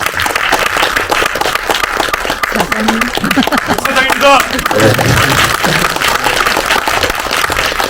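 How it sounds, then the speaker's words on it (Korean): Audience applause at a Korean film screening's audience talk, steady clapping from the seated crowd running the whole way through while a presenter speaks over it. "일어나셔서 박수 부탁드립니다."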